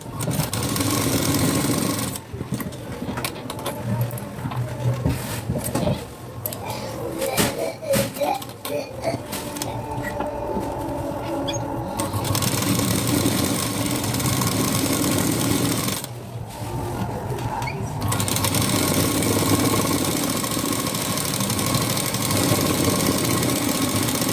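A sewing machine runs double stitches on the front panel of a Sabyasachi-style blouse, a continuous mechanical hum and rattle that stops briefly twice before resuming at a steady, close, loud level.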